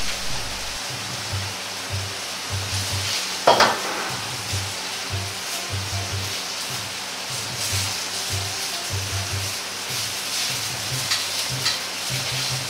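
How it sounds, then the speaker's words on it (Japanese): Pork fillet fries in an ordinary frying pan over medium heat, giving a steady soft sizzle with occasional louder crackles and stirring scrapes, close and without talk. "家庭で作るなら普通のフライパンを中火にして焼くだけです。"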